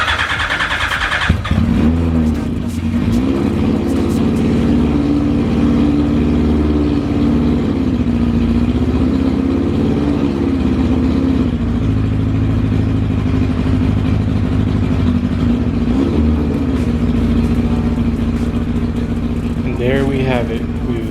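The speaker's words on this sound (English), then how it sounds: "We've officially started our car." A car engine with carburetors, running just after the motor was reinstalled, cranks and catches, then settles into a loud, steady, close idle with a low rumbling drone that holds for about twenty seconds, with a brief rev near the end.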